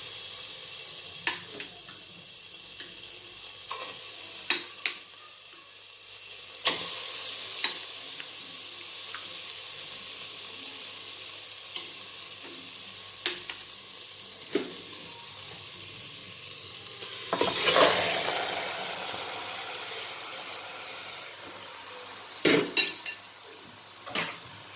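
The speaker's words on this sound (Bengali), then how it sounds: "এবার আমরা প্যানটা ভালো করে গরম হলে চিকেনটা দিয়ে দেবো" Chicken pieces sizzling in a hot pan with no oil, a low steady fry broken by sharp clinks and scrapes of a utensil stirring against the pan, with a louder burst of sizzle midway.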